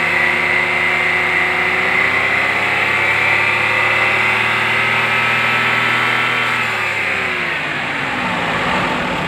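A car engine at about 976 rpm idle is revved up, its loud, steady drone rising in pitch, holding, then falling back toward idle, with no one talking.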